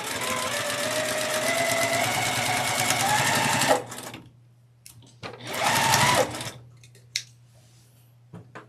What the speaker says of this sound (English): I'm going to sew these two pairs together.